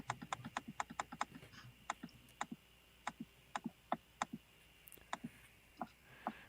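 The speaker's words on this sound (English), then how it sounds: "What are you clicking on so much?" Repeated sharp clicks sound up close in uneven, Morse-like runs of quick taps broken by short pauses, fairly quiet, with no talk over them.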